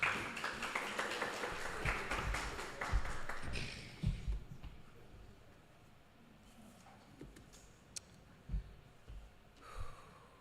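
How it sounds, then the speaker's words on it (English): Audience applause at the 2023 NGC Bocas Youth Debate bursts out loudly for a debater and fades away after about three and a half seconds, leaving a quiet room with a few faint scattered sounds. "so let's have a round of applause for Tariq"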